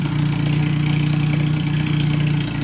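A scooter car built on a Chevette base idles under its own power, its small engine putting out a steady, close, even rumble with a constant low throb and no changes in speed.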